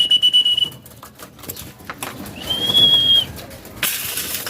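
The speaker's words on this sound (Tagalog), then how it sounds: "So pipito ulit tayo." A person whistles to call racing pigeons to feed, giving two sustained, steady whistles, one at the start and one a couple of seconds later, amid rustling and soft background noise.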